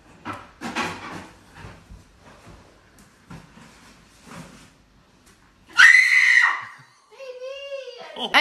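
A woman shrieks in fright as she is scared during a TikTok prank, with two sharp, loud screams, one of them wavering, after a stretch of quieter voices talking.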